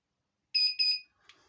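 An electric fireplace, just repaired, gives two quick high electronic beeps close by as it is switched on, followed by a faint click.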